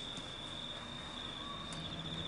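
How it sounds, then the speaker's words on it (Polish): A steady, high-pitched insect drone of cicadas hums continuously, fairly faint, with a low rumble underneath and no voices. "Cykady."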